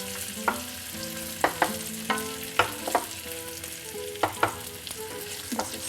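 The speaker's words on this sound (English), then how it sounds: "We'll just saute until they puff up and they'll be really nice and plump." Brown raisins sautéing in a pan give a soft, steady sizzle broken by several sharp spoon clicks and scrapes against the pan at irregular intervals, with faint background music.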